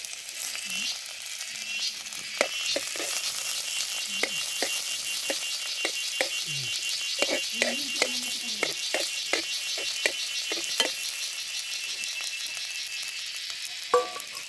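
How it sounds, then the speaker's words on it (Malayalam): Crushed small onions frying in a pan for a mushroom curry in Wayanad, giving a continuous bright hiss with scattered sharp clicks and spatters throughout. "ഇനി ചെറിയ ഉള്ളി തട്ടി കൊടുക്കാം."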